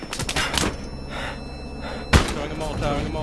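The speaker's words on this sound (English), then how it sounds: "Throwing grenade." Grenade thrown and exploding in Battlefield Hardline, a sharp thudding blast midway through amid scattered gunfire, with a player talking over it.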